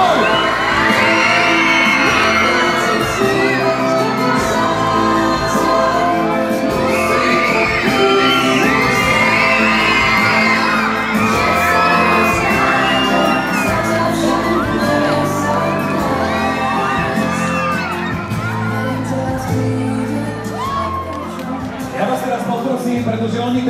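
A large crowd at a shopping-centre birthday celebration in Michalovce shouts, whoops and cheers continuously as guests are introduced, a loud dense roar of many voices with children among them.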